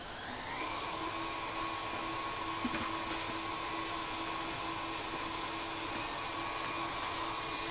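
An electric mixer whirs steadily as it beats blondie batter, a constant close motor whine with a faint tap partway through and no voices.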